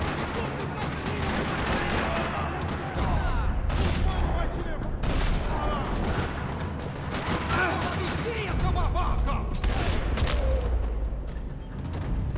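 Gunfire rattles through a parking lot in Max Payne 3, dense bursts of rapid shots and booms layered over a low rumbling game soundscape, loud and sustained throughout.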